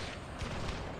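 Cannons and matchlock muskets fire during a Total War battle set in the Thirty Years' War. A dense, distant battlefield din carries a couple of dull thuds within about a second.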